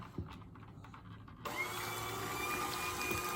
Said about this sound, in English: I'm going to just use my hand mixer